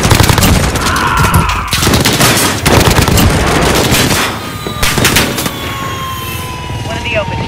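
Heavy close air support gunfire in Call of Duty: Modern Warfare, loud sustained cannon and machine-gun bursts with booming impacts, a radio voice talking over the roar, and a high whine of aircraft toward the end.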